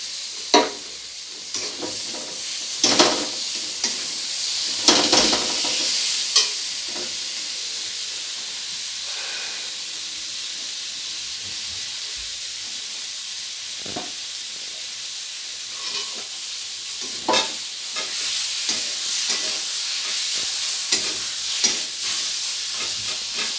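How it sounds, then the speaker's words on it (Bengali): Chopped tomato sizzles in hot oil with ginger-garlic masala for an egg biryani, a steady hissing fry broken by intermittent scraping stirs of the spoon, close and even, with no voices. "খুব ভালো করে ভেজে নেওয়ার পরে এখানে দিয়ে দিতে হবে টমেটো কুচিটা"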